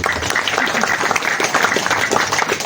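Brisk audience applause fills a hall at an Indonesian community gathering, steady overlapping clapping held at an even level from start to finish, with faint voices mixed in.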